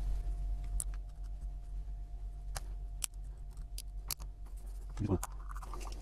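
Quiet snipping of scissors and scratchy scraping up close, a few sharp clicks scattered through, with a brief voice-like sound near the end.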